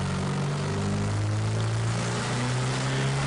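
A truck engine fitted with an AEM TruBoost controller drones steadily as its turbo slowly spools up, a loud continuous roar with low, rising harmonic tones and broadband hiss, heard close with no talking.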